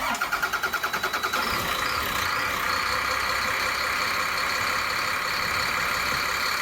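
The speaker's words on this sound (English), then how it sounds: "So I'm going to fire this thing up." A large bus engine cranks with a rapid rhythmic chug for about a second, then catches and settles into a steady, loud rumbling idle.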